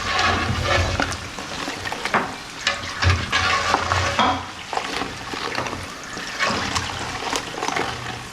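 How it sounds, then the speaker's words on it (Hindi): Gol gappay puris fry crisply in hot oil in a wok, a steady close sizzle and crackle with bubbling bursts throughout and no talk. "इनके क्रिस्पी होने की इसके अंदर से ही अभी कढ़ाई से ही आवाज़ आ रही है"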